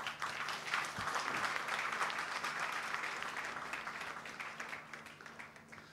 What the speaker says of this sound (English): And as that happens, do applause,